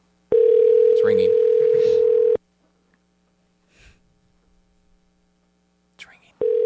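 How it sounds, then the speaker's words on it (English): A steady telephone ringing tone sounds for about two seconds, followed by a pause with faint rustles, then the tone starts again. "It's ringing."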